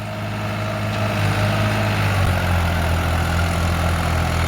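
A New Holland 3600-2 tractor engine with a rotavator attached, running at full throttle, gives a loud, steady, low droning roar that holds throughout without any talk.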